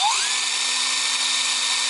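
A power drill whines steadily while drilling for an RV window installation, its pitch rising quickly at the start and then holding a high, continuous tone for the whole two seconds.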